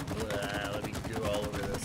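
Shooting in the video game It Takes Two: a rapid run of sharp, overlapping gunfire-like bursts that keeps going for the whole stretch, with a voice talking over the shots.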